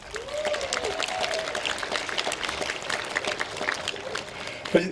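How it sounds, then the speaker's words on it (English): A rally crowd applauds for law enforcement at an outdoor stop-the-hate event, a sustained, moderately loud patter of clapping with scattered voices and a cheer heard through it. "let's just take a moment and give our men and women in blue a round of applause."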